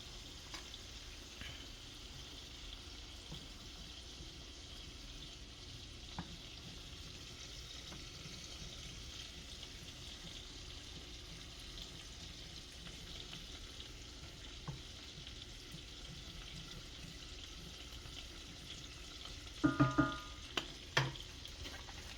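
Crab, corn and potatoes crisp in a pan for a garlic butter crab dish, giving a steady low sizzle with a few sharper clinks of a utensil near the end.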